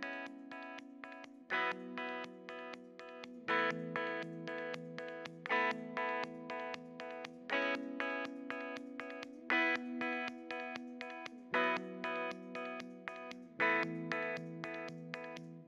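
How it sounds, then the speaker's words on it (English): A guitar through a TWA Triskelion Harmonic Energizer pedal, switched on and off in rhythm, gives a square-wave strobing effect: thick distorted sustained chords that pulse and jump in even steps, alone and fairly loud. "you can get this sort of like square wavy kind of strobing effect just by engaging and disengaging the pedal"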